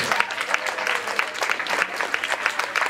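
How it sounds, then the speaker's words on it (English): An audience claps during a speech at an anniversary celebration event. The applause is dense, steady and close, with no talk heard over it through the short stretch. "Yeah, you can clap, Malcolm."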